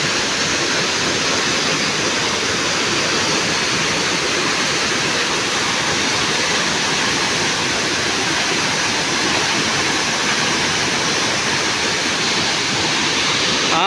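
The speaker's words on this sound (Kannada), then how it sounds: "ಫಾಲ್ಸ್ ಇದು" Horle Abbi waterfall in Kudremukh National Park drops from about 3,500 feet in the monsoon season. It gives a loud, unbroken roar of falling water that holds steady throughout, heard close by.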